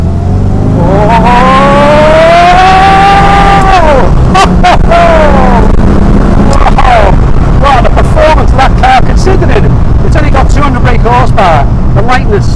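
Morgan Plus 8 historic race car accelerating hard, engine revving loudly through rising pitch sweeps with gear changes, close and dominant, with brief exclamations from people in the car.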